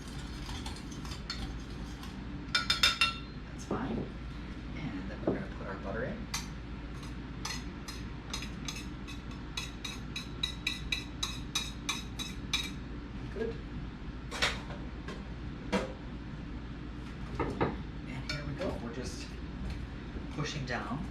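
A pastry blender works pie crust dough in a bowl, giving repeated clinking, scraping metal-on-bowl strokes in irregular bursts, fairly close and quiet, with a voice talking over parts of it.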